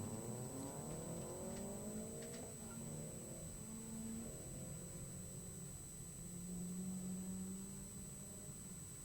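A 2006 Mazda RX-8 on an autocross course heard from a distance, its rotary engine rising and falling in pitch through a few quick shifts and turns, faint against steady background noise.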